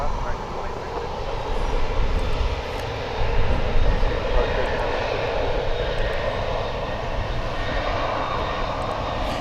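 An American Airlines plane in oneworld livery at DFW airport produces a steady, moderately loud engine roar that swells briefly, with people talking faintly in the background.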